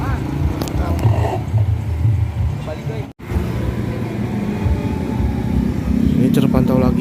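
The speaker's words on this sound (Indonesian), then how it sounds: "Ini ada Jetbus 5 lagi meninggalkan kawasan di alun-alun Pamorokan ini" A Jetbus 5 bus pulling out of a town square during a jamboree event, with a low engine rumble and passing traffic noise under constant nearby talk, plus a brief dropout midway.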